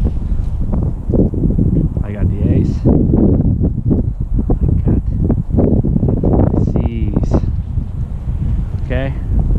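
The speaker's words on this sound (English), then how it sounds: "The wind is too strong right now." Strong, gusty Santa Ana wind at a local park roars and buffets the microphone in steady low rumbling surges, with a person talking over it throughout.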